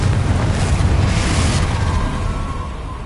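A Confringo blast spell cast in Hogwarts Legacy, heard as a loud, roaring explosive whoosh that sustains as a broad rumble and slowly tapers, close and alone without talk.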